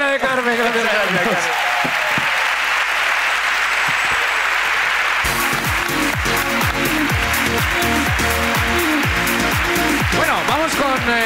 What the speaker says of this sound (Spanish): Aplauso para la ruina de Carmen.